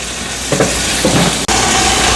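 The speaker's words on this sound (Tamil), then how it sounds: "இறால் எல்லாம் நல்லா வதங்கி கொண்டு வந்துட்டுது" Prawns sautéing with onion and tomato in a pan for shrimp biryani, giving a loud, continuous sizzle broken by a couple of stirring scrapes and one brief drop-out.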